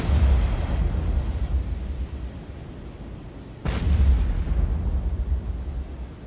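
A torpedo explosion in the submarine game Cold Waters: a low rumble fades, then a loud, sudden blast bursts in and rolls on into a long, heavy roar.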